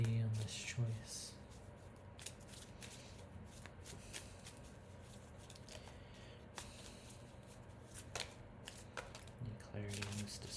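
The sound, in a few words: shuffling tarot cards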